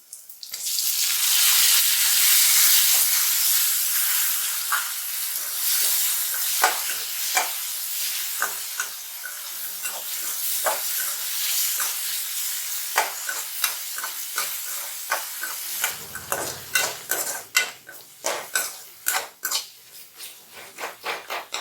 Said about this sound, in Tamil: இப்போ தக்காளி ஆட் பண்ண போகிறோம்.